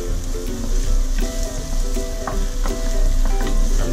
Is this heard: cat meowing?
no